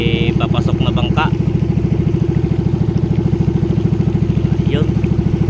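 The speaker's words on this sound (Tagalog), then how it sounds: "May papasok na bangka." A fishing boat's engine chugs in a steady, rapid putter as the boat comes in, loud and continuous, with people talking briefly over it.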